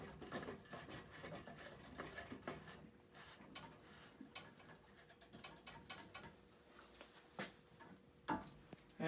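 The plastic filter housing of a home water filtration system is twisted tight, giving repeated ratcheting clicks and grinding creaks while birds coo and chirp in the background.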